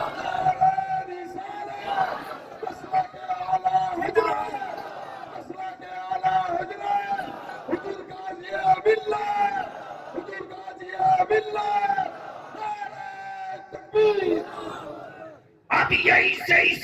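A crowd at a religious gathering chants a slogan back in loud, rhythmic unison after a takbir call, voices swelling and repeating for most of the stretch, then dropping out briefly before a final burst of shouting.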